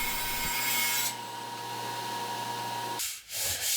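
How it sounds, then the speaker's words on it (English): An end grain wood cutting board run through a drum sander gives a steady loud hissing rasp with a low motor hum beneath. It holds for about three seconds, then cuts off into quieter rubbing noises. "I'm finished with my sanding on the drum sander"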